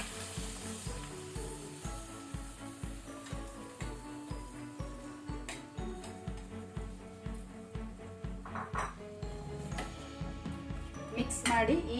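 Ground masala frying with tomatoes in a pan for crab curry, a steady sizzle with stirring scrapes heard close, with a voice talking over it and background music throughout.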